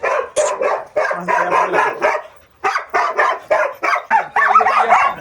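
A female dog and others bark in quick, loud bursts close by, yips and bow-wows repeating in short clusters with brief pauses between.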